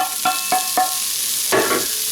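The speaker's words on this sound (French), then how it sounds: "J'ajoute les carottes" Carrots sauté in a pan over high heat, a steady close sizzle with several sharp metallic stirring clinks of a utensil against the pan, the last one louder and scraping.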